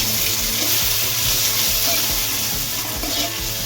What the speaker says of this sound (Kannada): ಟೊಮೊಟೊನ ಆ್ಯಡ್ ಮಾಡ್ಕೊಂಡು ನೀಟಾಗಿ ಇದ್ರ ಜೊತೆ ಫ್ರೈ ಮಾಡಬೇಕು